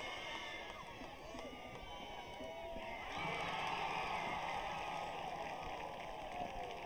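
Crowd and cheerleaders cheering at a night high school football game between Wakefield and Greater Lawrence Technical School: a broad, distant roar of voices swells and grows louder partway through, under clear talk.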